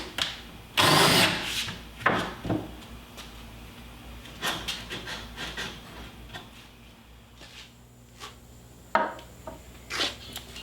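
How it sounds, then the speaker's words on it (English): A power drill drives a screw into a wooden board for a garage wall rail, in a few short buzzing bursts separated by pauses and light handling clatter. "drill it in the hole you just created"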